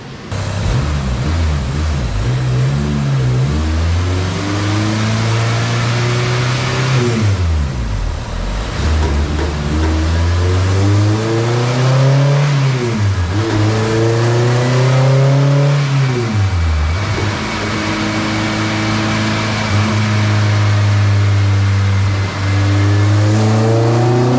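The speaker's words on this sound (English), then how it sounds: "stock Junkyard K24a2 TSX motor" A stock junkyard Honda K24A2 TSX engine swapped into a CRX, running on pump gas on a dyno, revs loudly through repeated climbing and falling pulls, its note rising and dropping with no talking.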